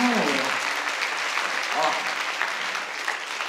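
Audience at a hypnosis show applauds in a sustained round of close, dense clapping, fading slightly toward the end, with a voice briefly heard over it.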